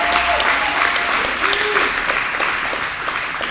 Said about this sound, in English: Can we give Siddiq a round of applause?